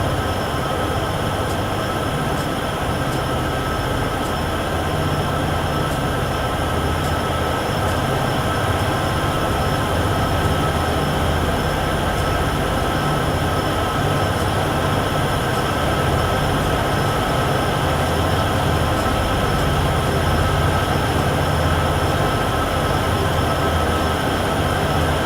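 A freight train rolls along the line between Cheyenne and Laramie in Train Sim World 6, a steady loud rumble and wheel drone holding constant throughout with no talk.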